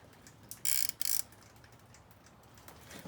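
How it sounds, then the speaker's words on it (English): A ratcheting wrench working on a Yamaha TTR50 motorcycle, two short bursts of close, sharp clicking ratchet sound over quiet background. "Ratcheting wrench."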